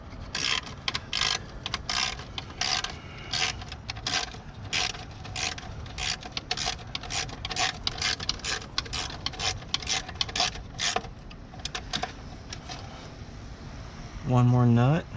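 A ratchet wrench turns a nut on a 2017 Ford Focus RS, its pawl clicking in steady, rapid strokes close by for most of the stretch before a brief different mechanical sound at the end.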